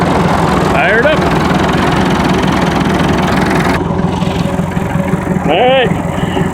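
A Massey Ferguson 265 tractor engine idles steadily and loudly just after starting, a constant close rumble with brief voices over it.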